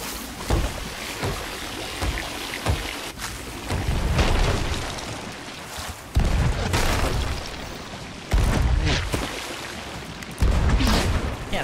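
Heavy booming blasts repeat at intervals, each a loud broadband burst with rumbling decay, ship cannon fire in a pirate sloop video game, no voices.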